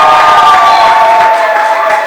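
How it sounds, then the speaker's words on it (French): A loud, close crowd at a customary wedding ceremony roars with cheering and applause, high voices and whistling tones riding over a dense wash of noise. "Applaudissez s'il vous plaît."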